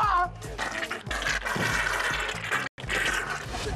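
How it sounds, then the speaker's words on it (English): A wet, throaty gurgle of blood at the back of a man's throat, mixed with strained vocal sounds, runs loud and close for a few seconds with one brief cut of silence. "It was the blood hitting the back of my throat."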